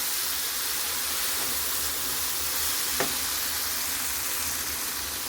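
Food sizzles steadily in a hot pan as it is stirred, a continuous close frying hiss with one brief scrape of the spoon partway through, and no talking.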